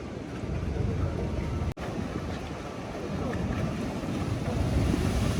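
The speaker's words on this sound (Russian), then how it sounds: "Волны огромные захлестывают этот бассейн." Heavy surf and wind roar steadily at a seaside ocean pool on Tenerife, big waves washing over it in a dense, continuous rush with a brief dropout partway through.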